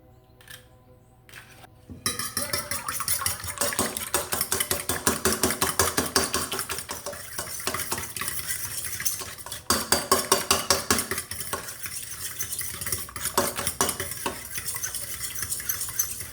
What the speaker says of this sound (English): I'm going to beat 2 eggs.